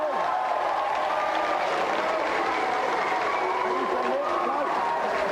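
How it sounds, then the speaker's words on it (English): A large crowd claps continuously, dense and sustained applause filling the space, with faint voices mixed in. "Let's have a big round of applause for both of our contestants."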